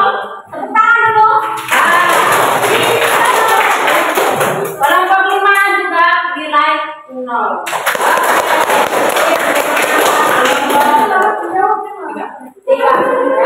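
A group in a classroom bursts into loud, dense hand clapping twice, each burst lasting several seconds. A teacher's voice speaks before, between and after the rounds of applause.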